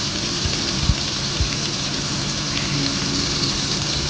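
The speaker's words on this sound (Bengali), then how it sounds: "পটল ভেজে নিচ্ছি আমি এবারে" Pieces of pointed gourd fry in a pan with a dense, steady, rain-like sizzle that stays loud and even throughout, with a few soft low bumps.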